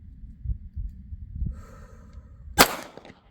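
A single rifle shot from a 1 MOA red-dot-sighted rifle aimed at a steel target, a sharp loud crack near the end, preceded by faint breathing and handling noise.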